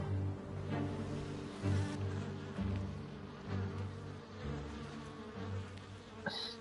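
An insect buzzes close to the ear in the game Everybody's Gone to the Rapture, a loud droning whine that swells and fades in waves over quiet ambient sound.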